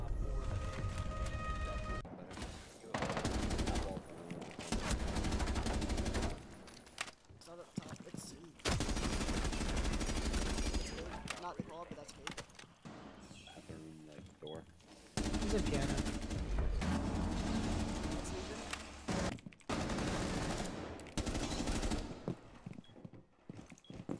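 Rapid bursts of video game gunfire in a zombie survival match, loud sustained volleys alternating with brief pauses, with players talking over the shooting.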